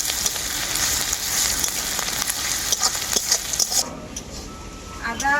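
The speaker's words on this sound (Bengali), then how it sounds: "আদা রসুন বাটাটাকেও পেঁয়াজের সাথে আমি খুব ভালো করে ভেজে নেবো" Onion and ginger-garlic paste fry in a pan for a Bengali fish curry, a loud steady close sizzle with stirring and scraping, thinning out in the last second or so.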